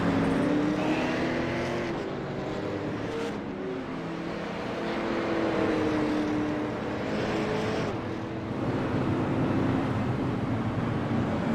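Race cars, some of them damaged after a crash, drone around the Southern National track in a TCM race, their engines roaring continuously with rising and falling pitch as they pass, loud and sustained with no talk.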